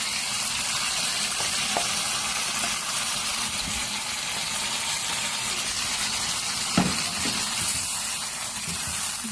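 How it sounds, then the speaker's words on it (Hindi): Tomato puree sizzles and fries in a hot pan with chicken handi, a steady broad hiss with a few faint stirring clinks. "टमाटर की प्यूरी ऐड करने के बाद अच्छी तरह से मिक्स कर लिया है।"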